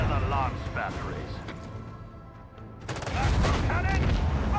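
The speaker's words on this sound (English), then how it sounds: "Fire the lance batteries." Lance batteries firing in a space battle video game: rapid bursts of heavy gunfire and explosions in two loud volleys separated by a brief lull, with a voice shouting over them.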